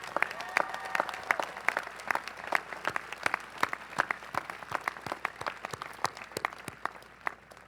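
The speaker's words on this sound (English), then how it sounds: "So let's send a thunderous applause up to the heavens for our fallen friend and colleague, Jim Cosby." Audience applause at a 2016 college commencement honoring a late colleague, sustained dense clapping from a large crowd for several seconds, moderately loud and even before tapering slightly.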